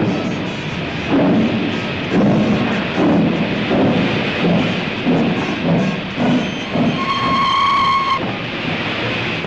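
The Royal Scot steam locomotive pulls away with a series of loud, rhythmic chuffs, and a whistle sounds briefly near the end.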